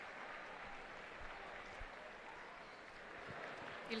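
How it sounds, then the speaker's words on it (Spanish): Pilgrims and faithful applaud in the Vatican's Paul VI Hall as the Pope arrives for a general audience, a faint, distant, continuous wash of clapping that stays even throughout. "Y ahí escuchamos pues a todos los peregrinos y fieles el gran aplauso por su llegada."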